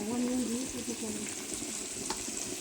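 Sliced onions frying in hot oil with spices, a steady close sizzle filling the whole stretch, with a brief sharper crackle near the end and no talk over it.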